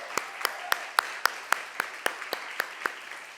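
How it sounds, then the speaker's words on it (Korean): At a Korean church youth worship service, a small group claps in welcome for a visiting professor and his son, a sparse, even rhythm of distinct individual claps, close and moderately loud. "교수님 죄송하지만 아드님과 한번 일어나 주시면 우리 환영의 박수 한번"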